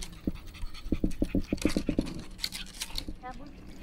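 Thirsty dogs pant and lap at water outdoors by a lotus pond, making quick rhythmic bursts of panting and wet lapping close by, while a person talks over them.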